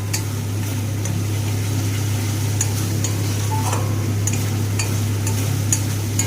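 Spice paste with poppy seeds frying in a pan for an ar fish dish, a soft even sizzle with faint stirring clicks over a steady low hum, no talk.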